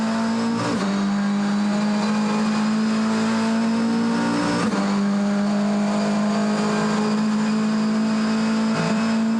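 A BMW race car in the GTC series at East London circuit powers through the right-hand turn at Potters, a loud sustained engine drone holding a steady high pitch with brief dips at gear changes, close and continuous.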